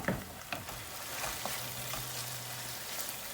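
Tomatoes sautéing in a pan for a Kayseri yağlaması (şebit) dish, giving a soft, steady sizzle with a few light clinks, close and fairly quiet.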